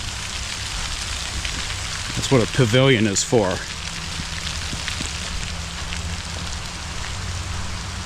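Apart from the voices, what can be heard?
rain shower falling around a pavilion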